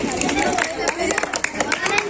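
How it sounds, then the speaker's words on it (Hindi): Children and adults at a mosque Islamic quiz clap loudly, with a busy patter of hand claps mixed with crowd chatter and voices talking over it. "जोरदार तालियां"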